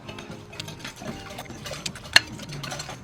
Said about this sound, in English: We want to whisk that together.